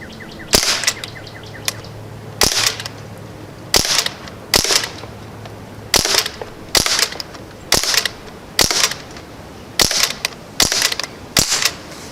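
An air rifle loaded with RWS Superdome pellets fires about ten sharp, loud, close shots spaced roughly a second apart, each a crisp snap with a brief clatter of reloading between them and no talking.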